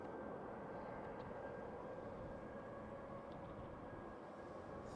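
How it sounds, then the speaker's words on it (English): An Emirates Boeing 777-300 wide-body jet departs Schiphol Airport's runway 36L in darkness, a steady, distant broadband engine roar holding level throughout without any voices. "Emirates 777-300 going back to Dubai."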